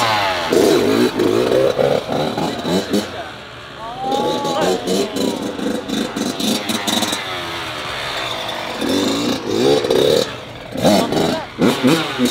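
A brand-new Kawasaki KX112 dirt bike engine revs in loud, close bursts with a rattling idle between throttle blips, while voices talk over it.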